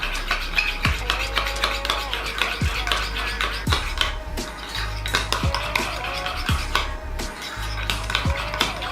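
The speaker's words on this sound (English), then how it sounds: "We're just gonna stir this up." Utensil stirring garlic and onion powder seasoning in a dish for an onion ring dipping sauce, repeated clinking metal-on-bowl scrapes and taps in an irregular rhythm, close and moderately loud with no talk.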